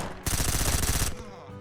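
A single close, loud burst of rapid automatic gunfire from a weapon in the survival shooter Surroundead, lasting under a second before a short ringing tail.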